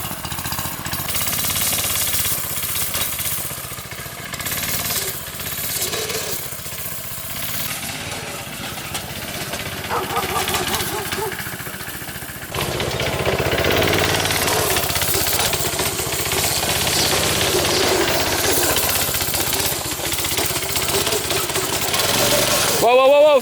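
A go kart engine with a worn, slipping clutch runs close and loud, chattering roughly and surging harder partway through, with voices talking over it.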